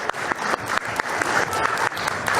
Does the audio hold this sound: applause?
yes